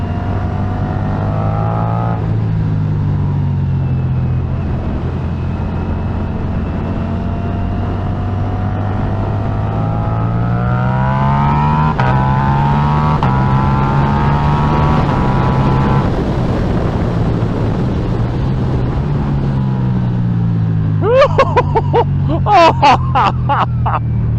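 A 2023 Ducati V4 Diavel motorcycle engine pulls hard under acceleration, its close, loud droning note climbing in pitch through several gear stages over steady wind rush, with a brief excited voice near the end.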